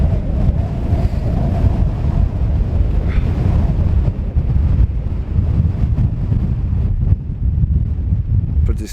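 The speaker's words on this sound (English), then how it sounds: "That is windy." Strong, continuous wind roars and buffets across an exposed snowy hilltop on the Isle of Arran, a dense rumbling gusty blast battering the microphone throughout.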